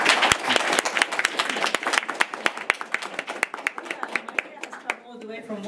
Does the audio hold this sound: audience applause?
yes